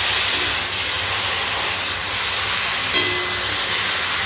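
Bengali-style mutton curry sizzles in a pan with its remaining gravy as it is slowly fried down, a loud, steady hiss of frying with no pauses and no talk.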